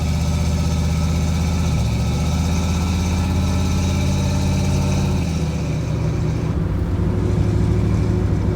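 Ford Maverick engine running on a run stand, a steady close idle with a constant low rumble throughout and a slight shift in tone near the end.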